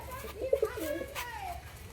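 Lakka pigeons coo softly and close by, a brief low burble of calls, with faint background noise.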